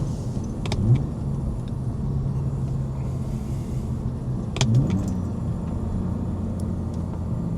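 A BMW car engine rumbles low and steady after a downshift while driving, with a constant close drone and a couple of brief clicks on top.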